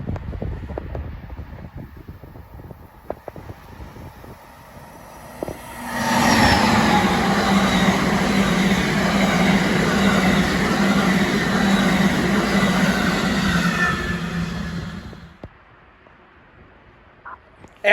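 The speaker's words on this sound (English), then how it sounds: "Amtrak 95 rolls southbound with a classic Charger leading the way." An Amtrak passenger train led by a Charger locomotive passes southbound near Spotsylvania, a loud wind-like roar with wheel noise rising suddenly, holding for about nine seconds, then dropping away.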